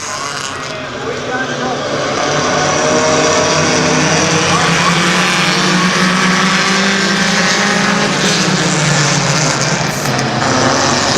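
Compact race cars roar around Midvale Speedway in a feature event, a loud continuous engine din that swells after the first couple of seconds and holds steady, with engine pitch rising and falling as the pack circles.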